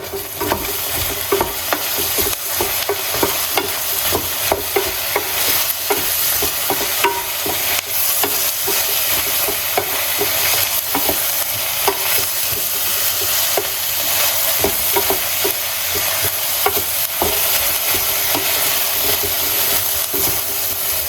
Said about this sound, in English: So you want to just fry off this a little bit.